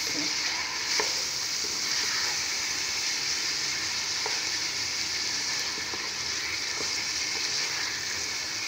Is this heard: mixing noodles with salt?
yes